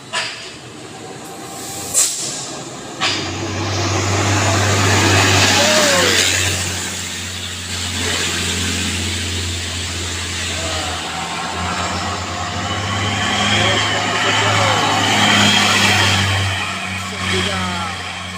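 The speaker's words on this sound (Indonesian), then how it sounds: "Ini dia rombongan truk tangki CPO." Heavy palm-oil tanker truck engines rumble steadily with a low drone and road hiss, climbing a steep incline at Kedabuhan nearby, with brief voices mixed in.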